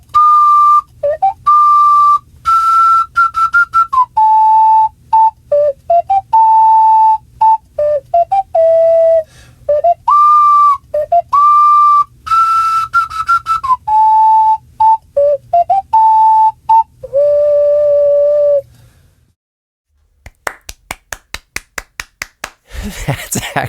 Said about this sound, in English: You don't have to keep sending me ocarina tunes.